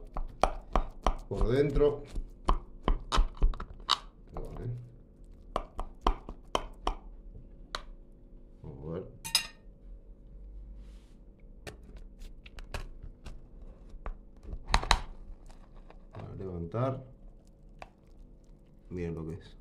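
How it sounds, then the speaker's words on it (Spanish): Knife slicing a portion of browned, crispy-topped pork shoulder lasagna baked with beer and white sauce, a run of crisp crunchy cuts and taps close by, with a person talking in between. "Vamos a cortar una porción"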